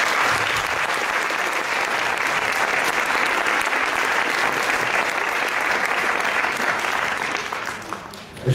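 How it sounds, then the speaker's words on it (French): An audience at a school festival closing ceremony gives festival partners a long, dense round of applause, steady and loud throughout before tapering off near the end. "je souhaiterais que vous les applaudissiez bien sûr"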